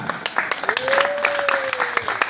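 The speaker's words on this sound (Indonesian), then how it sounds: "Tepuk tangan." Scattered clapping from a village gathering at a candidate number draw for village head elections, short and uneven with distinct individual claps and a brief tonal whistle-like sound running through the middle.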